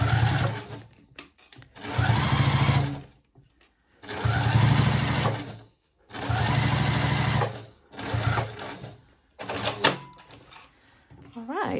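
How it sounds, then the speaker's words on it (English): Domestic sewing machine stitching binding onto a vinyl zipper pouch at a quarter-inch seam, running in three long bursts with short pauses between, close and steady, with brief talk in the gaps. "so I can finish my sewn line here"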